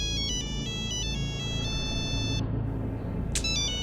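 A mobile phone ringtone plays a repeating electronic melody of bright beeping tones for a few seconds, pauses, then starts again over a low background hum, with no speech.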